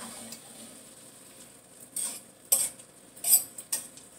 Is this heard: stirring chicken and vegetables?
yes